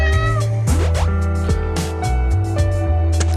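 A cat in the video game A Space For The Unbound gives several short, rising and falling meows when petted, heard over a steady background music bed.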